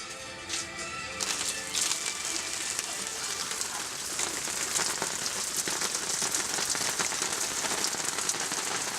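Rain pours down in a steady, broad hiss that swells after the first second and then holds, with patters of drops striking a nearby surface.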